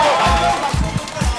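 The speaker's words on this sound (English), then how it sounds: "Team cheer there" A team cheers at a 2011 GSTL StarCraft II esports match, a few short loud bursts of shouting in quick succession, close and brief.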